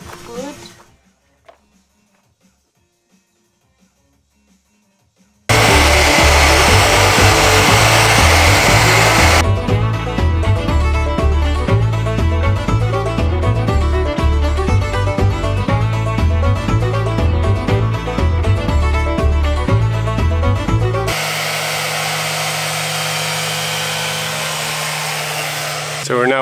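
Power sander working on a wooden structure built for a pizza oven, starting abruptly after a quiet moment and running as a loud, steady grinding drone with rhythmic pulsing, then shifting to a smoother hum near the end.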